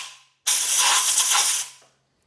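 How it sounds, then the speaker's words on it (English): Compressed air blasting debris out of bolt threads, one loud, close burst of hiss lasting just over a second with a sharp start and a tapering finish. "use some compressed air to blow out the debris"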